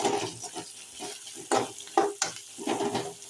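Sliced onion frying in oil and a little ghee with cinnamon, cloves and ginger garlic paste, a close steady sizzle broken by several sharp stirring scrapes and clinks of a spoon in the pan, with no talk.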